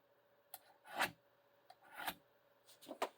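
A single-bevel broadhead is drawn across Steamboat sharpener rods in a few separate strokes, each a short, dry rasping scrape with quiet gaps between, close and fairly faint.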